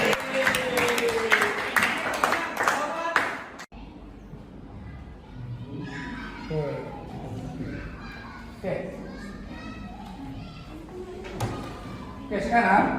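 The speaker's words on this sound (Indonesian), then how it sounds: "terima kasih tepuk tangan untuk Prabu" A classroom full of students claps for a classmate in a brief burst of applause that stops abruptly, followed by quieter room noise and a teacher talking.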